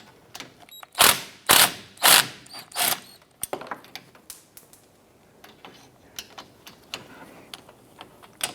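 Ratchet with swivel and extension loosening radiator bolts on a 2005-2007 Ford Five Hundred, four loud rhythmic clicking strokes followed by softer scattered clicks and metallic taps, close up.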